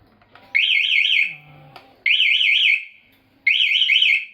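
A loud electronic anti-theft alarm on a Motobi Pesaro 200 Evo motorcycle wails in three long warbling bursts separated by short gaps. Faint clicks and a low buzz fill the pauses.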